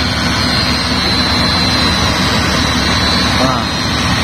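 Concrete paving machine pouring cement for a rigid concrete toll road, giving a steady broadband engine drone and mechanical rumble throughout, with people talking underneath.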